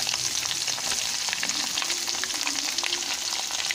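Onions sizzle in hot oil with mustard seeds in a pan for an Indian bean curry, a steady, close crackling hiss with light stirring and no talking.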